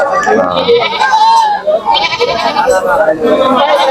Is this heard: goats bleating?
yes